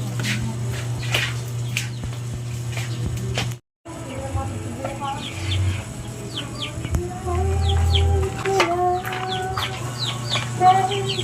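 Chicken clucking in a rural Filipino setting, a few short calls scattered through steady background hum, with people talking nearby.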